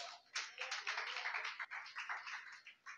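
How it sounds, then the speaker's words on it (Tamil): A church congregation claps along during a Tamil praise and worship service. The claps come quick and steady in a dense, fairly faint patter that runs through the whole stretch with a few brief gaps. "கைத்தட்டி."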